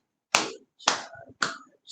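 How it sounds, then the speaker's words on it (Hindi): Three sharp hand claps, evenly spaced about half a second apart, ring out in a room during a group yoga session. Each clap is crisp and fairly loud, with a short echoing tail. "तालियां 15 बार।"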